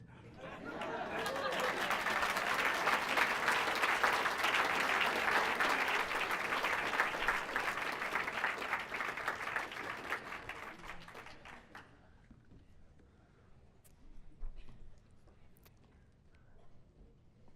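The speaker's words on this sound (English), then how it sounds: "Let's give him one more round of applause." An audience at a Young, Gifted and Black event breaks into sustained applause, loud and dense for about ten seconds before tapering off into scattered claps and quiet room noise.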